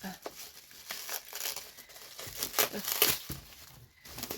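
Paper crinkles and rustles while a parcel is unwrapped by hand, with irregular crackling bursts and a few sharp tearing sounds at close range, no voices.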